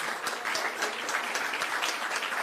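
Sustained applause from an audience at an annual function of an autism centre, honouring children who performed; dense, steady clapping throughout, fairly close and even in level, with no voices standing out.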